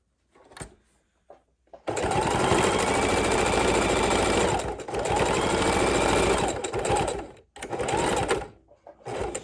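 A sewing machine stitches trim onto a junk journal cover, running in several bursts of rapid mechanical chatter with short pauses between, close and loud.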